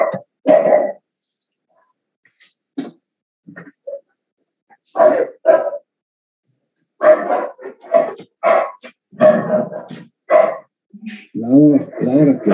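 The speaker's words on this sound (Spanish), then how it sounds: "La hora que el vecindario saca a pasar a los cachorros y se me arma una pequeña perturbación," Neighbourhood dogs, including puppies out on a walk, bark in short scattered bursts at close range, with yips and a brief whine among the barks and quiet gaps between them.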